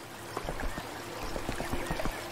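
Water trickles and pours in a small stream beside a Wii Sports Channel scene, a faint splashing babble with soft irregular plops.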